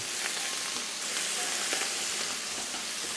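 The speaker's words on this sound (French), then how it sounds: "Allez, nos morceaux de viande, on va chercher une belle coloration" Beef pieces sear in a pot for a traditional bœuf bourguignon, giving a steady, dense sizzle with a few small pops throughout, close and continuous with no talk.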